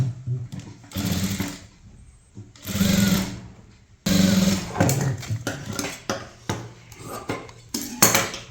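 A domestic sewing machine stitches a cross piece onto kurti fabric in several bursts of fast mechanical whirring, with short pauses and clicks between runs, close and clear.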